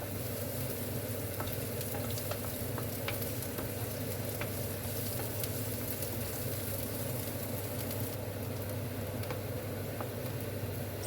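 Onions sauté in a pan, giving an even, moderate sizzle that runs throughout with faint clicks of stirring and a low steady hum beneath, no speech.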